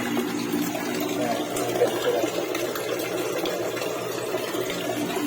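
Water rushes in a strong, steady flow, a continuous churning roar close by with no pauses and no voices.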